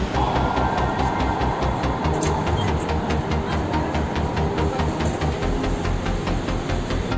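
A Bangalore metro train rolls steadily through a station with a regular rhythmic clatter of wheels over rail joints, loud and close throughout.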